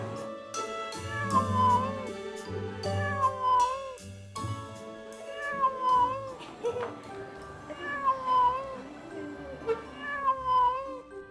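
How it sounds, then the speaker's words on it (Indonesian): A cat meows repeatedly in a series of clear, drawn-out calls at fairly close range, with musical-sounding tonal harmonics and no talk over it. "Cantik sekali kucing ini."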